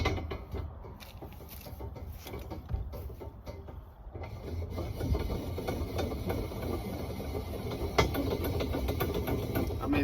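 A bow press is cranked in, giving a steady mechanical whir with faint ratcheting clicks and a low rumble that continues close and even for the whole stretch.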